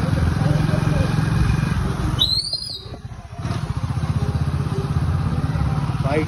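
A motorcycle engine runs steadily and close by during a kite-flying outing, a continuous low rumble that dips briefly in the middle while a high whistle-like tone cuts through and voices are heard in the background.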